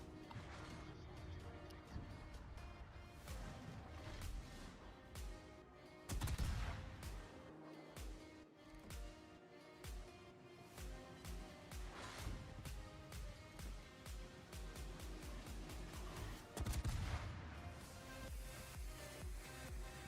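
Naval gunfire from warship turrets in World of Warships, heavy booming salvos at intervals with scattered shell impacts and crashes over a steady engine drone, moderately loud, with a voice talking between.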